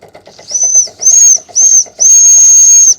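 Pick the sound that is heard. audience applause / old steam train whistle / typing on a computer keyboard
old steam train whistle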